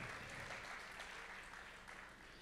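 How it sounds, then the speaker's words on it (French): An audience at a housing and territories awards ceremony applauds the minister with steady, sustained clapping that fills the room at an even level. "Oui, on applaudit le ministre naturellement."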